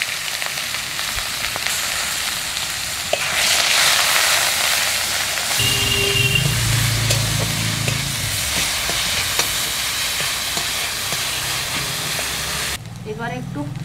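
Whole dried red chillies, whole garam masala and cumin seeds sizzle in hot oil, a steady close hiss that swells into a louder, brighter crackle partway through, with a few clinks before it quietens.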